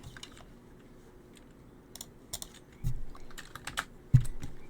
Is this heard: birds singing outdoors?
no